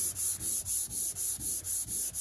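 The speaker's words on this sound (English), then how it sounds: "when holding your sandpaper and you're sanding" Steady back-and-forth sandpaper rubbing, about nine even strokes in quick rhythm, close and continuous with no talking.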